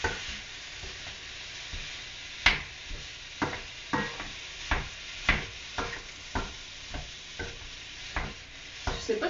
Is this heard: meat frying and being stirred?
yes